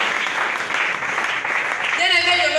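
A church congregation claps in sustained, dense applause, with voices layered over it and music tones entering near the end.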